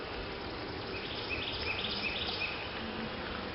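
Honey bees buzz steadily at close range during an open hive inspection, a dense continuous drone with a few brighter whines rising above it, no voices present.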